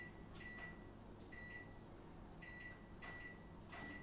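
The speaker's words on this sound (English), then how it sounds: "I'm going to pop that in the microwave on defrost for about 10 minutes." Steady low hum of a microwave oven running on defrost, with a few brief high tones repeating intermittently over the drone, no talk.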